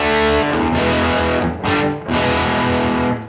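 An overdriven Marshall electric guitar chugs out a riff, loud and crunchy, with hard-struck chords broken by two brief gaps, played close with no talking.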